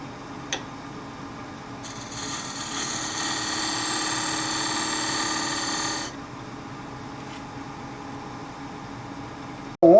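A woodturning point tool cuts wood on a lathe, with a steady rasping cut of a few seconds over a low machine hum, then the hum carries on alone before a short loud knock at the end.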